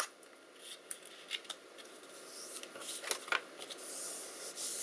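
A paper library card pocket is folded by hand, giving soft, close rustles and a few light crisp creases over quiet background noise.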